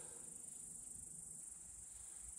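A dense swarm of mosquitoes produces a steady high-pitched whine that persists throughout, faint and close, with no talking.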